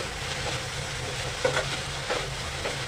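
Drumstick leaves bhaji being stirred in a pan over low gas, a steady soft scraping and gentle sizzle with a couple of louder stirs, close and continuous with no talking.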